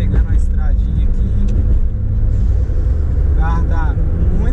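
A tuned Ford Fiesta 1.0 turbo drives along a small road, its engine a steady, loud low drone with road rumble throughout, close up from inside, while voices talk over it.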